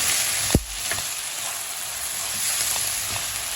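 Peppers sizzle in a hot pan while being stir-fried for chicken noodles with vegetables, a steady crackling fry with a sharp clatter near the start and a few faint stirring knocks, no talking.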